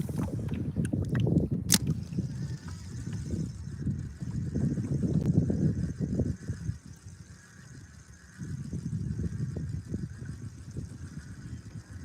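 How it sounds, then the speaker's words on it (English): Water sloshing and swirling around a kayak while out fishing, a close, continuous low burbling that swells and eases in waves, steady and moderately loud without talk. "you just love to hear that water? And I'm kayaking."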